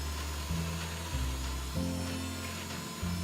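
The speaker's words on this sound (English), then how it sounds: "start your drill to full speed. Slowly start pushing and pulling until the stop collar contacts the bushing face" A steady power drill whirs close by, boring into wood through a drilling jig's bushing, its pitch dipping and rising in short steps as the bit bores in and is pulled back.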